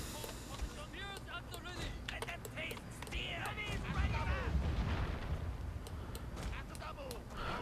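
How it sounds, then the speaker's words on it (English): Gunfire in the Total War: Shogun 2 Fall of the Samurai battle game crackles as dense, rapid volleys of shots and booms with a rumbling battlefield din beneath them, under a voice talking. "the enemy is shooting that unit of levy infantry"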